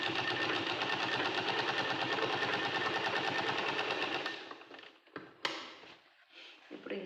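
A sewing machine stitches a long frock with a fast, steady mechanical chatter for about four seconds, then stops, leaving a few light handling clicks and rustles.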